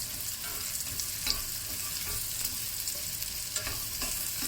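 Mushrooms fry in rendered bacon fat, a bright, even sizzle with a few soft stirring knocks from the pan, close and continuous with no speech.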